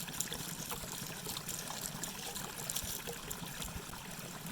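Dirty water being dumped out of a container on a hike at Pilot Mountain State Park, a soft continuous trickle and splash of pouring liquid, steady and faint, with no talking.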